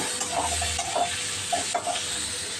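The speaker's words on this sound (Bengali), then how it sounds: "প্রথমে পেঁয়াজটা একটু কষিয়ে নিই" Onions sautéing in a pan before fish is added, a steady soft sizzle with a few light clinks of stirring running under it, close and moderately quiet with no talking.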